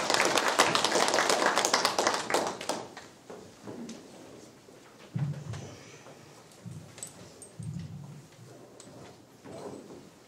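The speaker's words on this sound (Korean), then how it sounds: "나오실 때 큰 우리 박수로 맞이하겠습니다" A congregation at a church prayer breakfast claps to welcome a pastor, with brisk applause for about three seconds that thins to scattered claps, followed by soft shuffling and low thumps.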